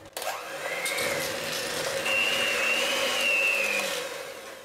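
Electric hand mixer whirring steadily as it stirs cake batter with baking powder for a pear cake, a continuous close motor whine with slight pitch shifts, no talking.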